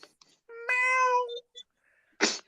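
A human voice mimics a cat with a single drawn-out, tonal meow, followed by brief bits of speech.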